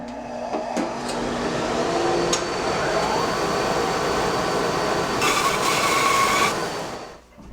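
A saw cuts a cherry wood guitar body blank in half, producing a loud, continuous whining roar with a brief surge of higher, brighter grinding near the end before it winds down.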